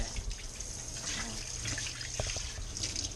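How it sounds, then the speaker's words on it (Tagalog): Water running steadily from a tap as someone washes at a sink, a continuous hissing splash close by with faint clinks, and a voice speaking softly underneath. "Yan naghuhugas yung asawa ko mga pre."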